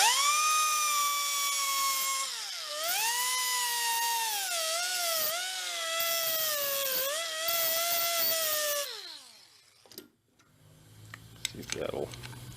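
A power tool whines steadily while trimming the edges of a part on an old mini bike left thirty years in the woods, its pitch sagging and rising with load before winding down, followed by brief handling clatter.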